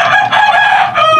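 Pet chicks peeping loudly and close, a brief burst of high, overlapping chirps that runs without a break for just over a second.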